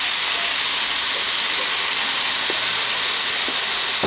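Carne asada flat iron steak sizzles over hot coals with flames, a steady close hiss with a few faint pops and no talk.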